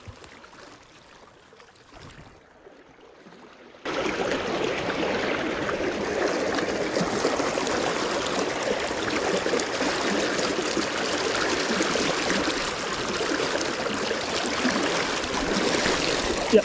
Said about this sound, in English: As you can hear in the video, the water is really ripping through